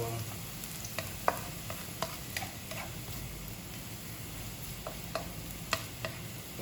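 Garlic sautés in a pan for a Sambales-style dinuguan, a soft steady sizzle broken by sharp clicks of a spatula scraping and stirring at irregular intervals, close and without talk.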